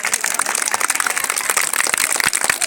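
Schoolchildren clap together at a Republic Day celebration at a school, a dense, steady patter of many hands close by, continuous for a few seconds.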